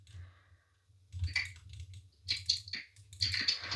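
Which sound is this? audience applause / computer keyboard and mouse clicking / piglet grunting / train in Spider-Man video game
computer keyboard and mouse clicking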